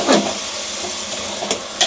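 Onions being stirred in a hot pan, with a soft steady sizzle and a few short scraping stirs near the beginning, middle and end, close by and without speech.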